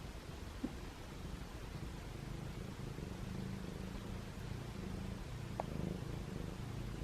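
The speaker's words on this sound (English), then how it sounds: "He's purring." A rescued feral kitten purrs softly and steadily at close range, a continuous low rumble lasting throughout with no voices over it.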